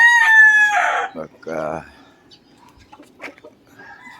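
A rooster crows loudly and close, followed by shorter clucks and calls from chickens, with one brief spoken word.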